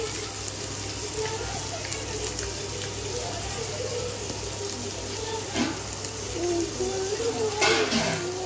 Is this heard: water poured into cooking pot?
yes